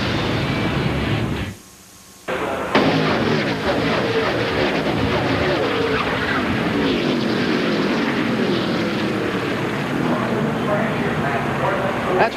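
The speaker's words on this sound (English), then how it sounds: "That's what a wreck sounds like from up close." A multi-car stock car wreck at Pocono during the 2001 Pennsylvania 500, heard up close as a loud, dense roar of engines and crunching impact noise, with a sudden brief dropout before the din resumes and continues steadily.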